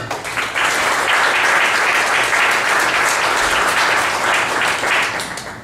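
A seated audience gives a loud, sustained round of applause to welcome a pizza-business speaker at a Tulsa startup gathering, dense clapping swelling quickly and holding for several seconds before tapering off at the end.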